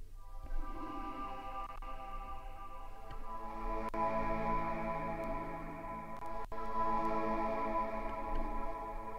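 A synthesized choir pad built in VCV Rack 2 holds sustained, layered vowel-like tones at a low, steady level with a few faint clicks and no talking.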